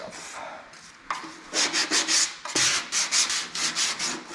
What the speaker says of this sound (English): Seems to be ready to be sanded. The fiberglass stuff.